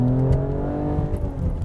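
A 2016 Mercedes-Benz GLE 450 AMG with a 3-liter V6 turbo engine pulls hard under acceleration, a steady mid-loud engine drone that holds its pitch through the short stretch with no talk over it.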